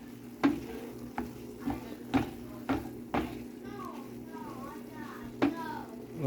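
Simmering taco meat being stirred in a hot pan: a soft steady sizzle with regular scraping strokes about every second, close by, with a voice faintly in the background.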